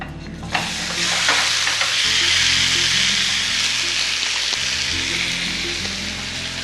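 Rava uttapam sizzles steadily in oil on a pan as it is flipped over, a loud continuous frying hiss with a scrape and soft clatter near the start, no voices.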